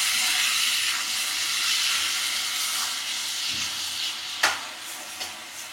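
Chopped onions fry in hot oil until reddish for an egg gravy curry, giving a steady, even sizzle and hiss throughout, with a couple of faint utensil clicks near the end.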